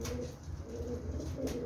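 Pigeons coo in a loft with steady low throaty murmurs throughout, a dense close chorus of soft overlapping calls with no voices.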